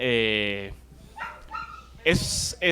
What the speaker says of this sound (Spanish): Un saludo a mis perros que están por allá atrás haciendo desmadre.